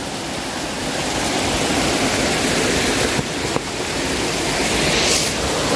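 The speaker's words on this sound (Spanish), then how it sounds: "Vamos a ver si podemos bajar para mostrarles lo que es el chorro que está cayendo" A waterfall pours into a river in Mercedes Umaña, Usulután, a loud, steady broadband rush of falling water heard close and continuous, with no voices.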